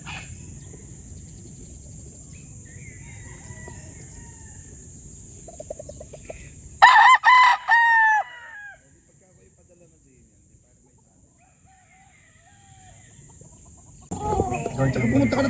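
An imported Golden Boy F1 gamefowl rooster crows loudly and close in a short burst of a couple of seconds, with quieter clucking and farmyard bird sounds before and after and a steady background hum.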